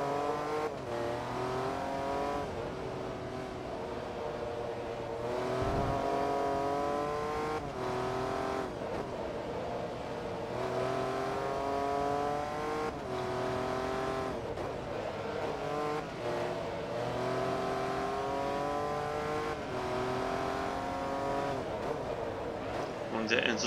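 A Koenigsegg CC-8S in the Forza Motorsport 2 racing game, during an endurance race, drones on continuously with engine tones rising and falling through repeated gear changes, under steady conversation.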